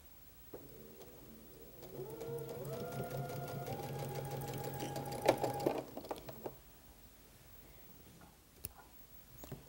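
A Brother Quattro sewing machine stitches quilt pieces in one steady whirring run of about four seconds, its pitch climbing in steps as it speeds up, followed by scattered clicks and handling sounds.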